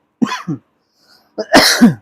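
Two short bursts of coughing separated by a brief pause, close and fairly loud, with no talking.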